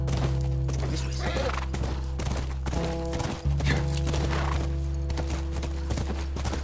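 Hooves clip-clop in a steady rapid rhythm as a horse gallops in the video game The Last of Us, heard close over a constant low game hum with a brief break partway through.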